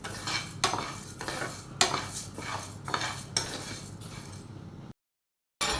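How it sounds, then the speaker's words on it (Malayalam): White rice dry-roasting in a pan on a gas stove, stirred in regular scraping strokes with metal clinks over a faint crackle, close and steady before a brief silence. "ഇനി ഇതൊന്ന് വറുത്തെടുക്കണം."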